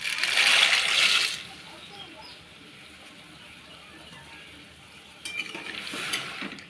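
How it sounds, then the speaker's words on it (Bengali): Pasta tipped into a pan with mustard oil and stirred lightly: a burst of hissing and rattling at the start, then a quieter stretch, followed by renewed scraping and sizzle near the end. "পাস্তাগুলো দিয়ে হালকা করে নেড়ে নিচ্ছি।"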